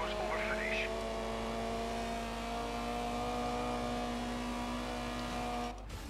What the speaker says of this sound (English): we're about to overtake a Mark II Escort and a Lancia Stratos